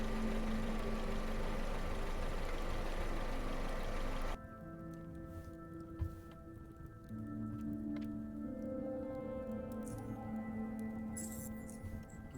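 Mechanical whirring in the game Underrail, a steady droning machine hum that shifts pitch and texture partway through, running alone without voices.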